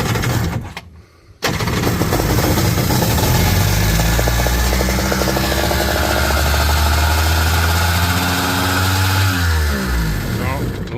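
A Kawasaki jet ski engine running with its idle set too high drones loudly and steadily after a brief quiet start, its pitch shifting slightly, with a voice talking over it.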